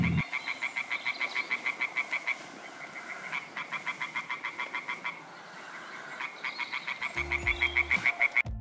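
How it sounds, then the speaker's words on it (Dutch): Tree frogs in a pool croak in rapid pulsed trains, loud and close, with a short pause midway before the chorus resumes; brief knocks at the start and end. "Dan gaan we luisteren naar boomkikkers."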